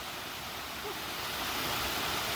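A waterfall at Kembara Hill in Ampang, its steady, even rushing hiss of falling water heard from nearby, with no talk over it.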